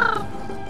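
A seagull cries out in a Tomb Raider video game map, a short shrill call at the very start that fades into a dense, steady game ambience.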